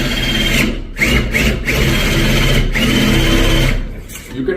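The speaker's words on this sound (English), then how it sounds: "if you want to do a standard base plate, you can just drill it" A surgical drill bores into the glenoid to seat a standard base plate during a reverse shoulder replacement, running loud and steady as a continuous high whine with a few brief pauses.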